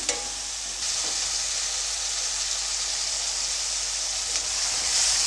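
Tamarind mixture boils steadily in a pan for a chitranna (lemon-style rice) seasoning, giving a continuous dense bubbling hiss that stays even and close throughout, with a few faint clinks and no talking.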